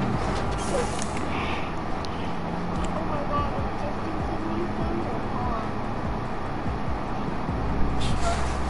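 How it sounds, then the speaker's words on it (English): Loud, steady truck engine rumble in a video game, a continuous low drone held close and constant throughout, with faint higher hiss above it. "I can barely hear anything with this damn loud-ass truck"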